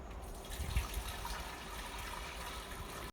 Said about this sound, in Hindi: तो यहाँ पर हम पानी डाल रहे हैं।